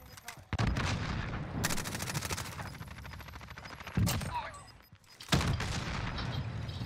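Gunfire in the video game Modern Warfare Warzone, where a sniper fires from behind. Loud bursts of rapid shots and heavy booms crowd together with brief pauses between them, dense and close.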